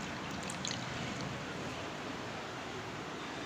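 Grape and pomegranate juice poured into a cup makes a steady, close liquid hiss that runs evenly for the whole few seconds with no voices.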